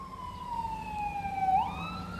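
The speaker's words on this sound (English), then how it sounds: "I've been hearing sirens everywhere." A wailing emergency vehicle siren sweeps steadily in pitch, then jumps to a higher tone, sounding moderately distant over a low rumble of background noise, on a Toronto street during a power outage.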